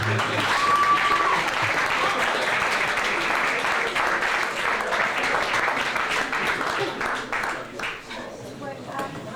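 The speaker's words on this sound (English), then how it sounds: "Please give King Simon a round of applause." A crowd applauds steadily, dense clapping filling the space for several seconds before thinning out toward the end.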